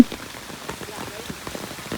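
Heavy rain pattering steadily on surfaces, with close irregular drops over a continuous wash and no voices.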